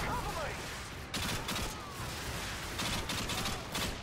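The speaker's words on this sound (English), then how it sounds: "Random flashbang!" A flashbang grenade bursts in Call of Duty Modern Warfare 2 on the Oil Rig map, with sharp, fairly faint bangs and gunfire popping in repeated clusters amid a speaking voice.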